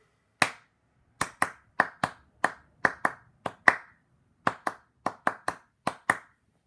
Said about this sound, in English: Whole thing clapped.